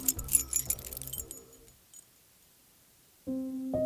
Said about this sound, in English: he desperately tried to unlock his door